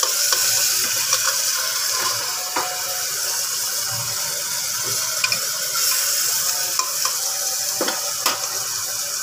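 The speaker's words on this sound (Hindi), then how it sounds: "1 चम्मच अदरक लहसुन का पेस्ट डालूँगी, इसको भी थोड़ा भूनती हूँ" Ginger garlic paste sizzles and fries in a pan before minced meat goes in for kheema gothala, a steady close hiss with small scattered pops and clicks of stirring, and no talking.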